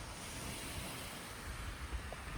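Ocean waves wash onto Pantai Inaburak beach on Donara Island, a soft, continuous surf wash mixed with light wind, faint and distant.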